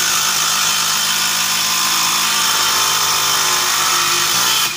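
Up close, a cordless impact driver with its tip ground off drives a screw in one continuous loud, high whirring run that stops abruptly near the end, with no speech.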